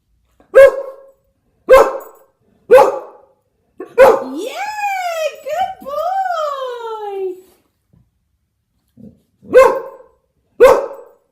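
A dog in a harness gives four short, sharp barks spaced about a second apart, then a drawn-out wavering whine or howl, then two more barks, all close and loud with quiet gaps between.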